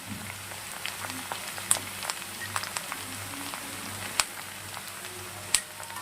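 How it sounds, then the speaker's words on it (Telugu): Sliced okra and onions frying in a pan, a steady soft sizzle with occasional louder pops and crackles, close by and with no talk over it. "ఇప్పుడు మనం మళ్ళీ ఫ్రై చేసుకుందాము"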